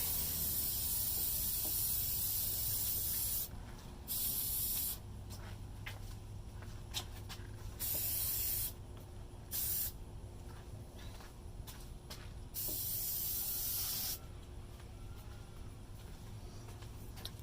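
Krylon Crystal Clear acrylic coating hisses from an aerosol can in repeated sprays of one to three seconds, separated by short pauses, close and steady, sealing an acrylic pour painting.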